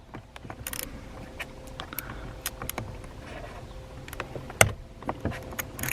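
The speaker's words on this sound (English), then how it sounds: "we're going to go ahead and start removing the bolts that hold the airbag in" Airbag bolts being loosened on a Dodge Charger steering wheel: close, irregular ratcheting clicks and metallic creaks with a sharp crack partway through as a bolt breaks free, no voices.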